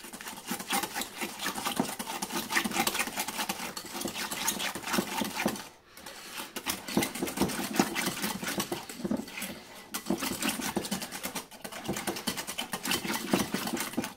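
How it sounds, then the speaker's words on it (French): Apricot tiramisu batter being mixed in a bowl, heard as a steady motor-like whirring churn that breaks off briefly twice before resuming. "on va pouvoir mélanger pour délayer"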